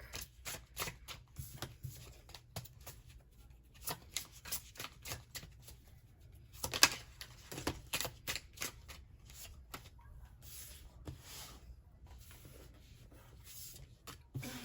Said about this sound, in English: Let me just shuffle up the tarot really quick.